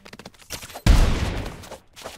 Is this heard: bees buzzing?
no